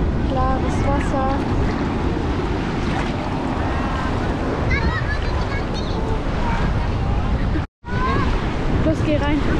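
Steady rushing of surf and wind at Melasti Beach in Bali, loud and close, with a brief dropout near the end.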